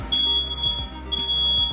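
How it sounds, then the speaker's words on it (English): A smoke alarm goes off while pork belly roasts in a home oven, a steady piercing high beep held loud and continuous over low background hum. "expect the smoke alarm to go off"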